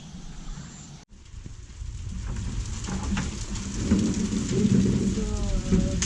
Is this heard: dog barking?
no